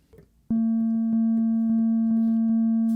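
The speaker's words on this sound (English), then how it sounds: "that's our uncolored sine wave" A pure, steady electronic sine tone from a Moog Labyrinth synthesizer switches on abruptly and holds at constant pitch and loudness, plain and uncolored, with faint ticking underneath.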